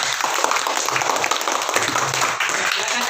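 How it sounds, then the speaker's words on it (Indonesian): Classroom applause from primary school pupils, a steady dense patter of many hands clapping at close range for about three seconds, filling the room without a break. "Berikan aplaus."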